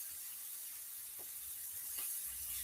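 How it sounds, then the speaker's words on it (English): Seasoned vegetables sauté in a pan alongside string beans, a steady, even hiss of sizzling that runs throughout at a low, constant level, with no talk. "we are sauteing or seasoning on our vegetables"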